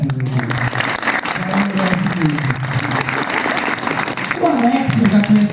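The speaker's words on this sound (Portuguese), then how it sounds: "Queria pedir uma salva de palmas para a Linda." Applause from the audience at a PSOL party plenary meeting in Aracaju, a steady crowd clapping throughout with voices and talk carrying on over it.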